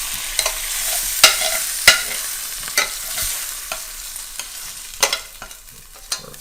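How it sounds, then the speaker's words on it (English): Frozen vegetables tipped into an oiled pan, a soft frying hiss broken by a series of sharp clatters and scrapes as pieces land and get pushed around, close and fairly loud. "I'm going to take these vegetables and get them into our"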